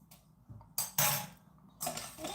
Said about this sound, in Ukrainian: Це все ми вінчиком отак збиваємо